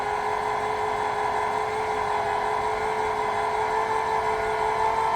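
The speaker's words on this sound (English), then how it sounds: "It's extending our landing gear." The electric motor of a Lippert Ground Control RV leveling system drones with a steady whine while extending the landing gear, continuous and unchanging at moderate volume, with no talk.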